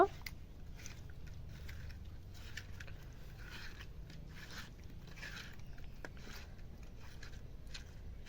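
Fish is mixed by hand with salt and turmeric, making soft, wet squelching and scraping strokes in short irregular bursts. The sound is faint and close, with no talk.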